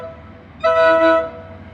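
A narrow-gauge steam engine whistle blasts once, loud and steady for about half a second, with a low rumble of the train continuing underneath before and after.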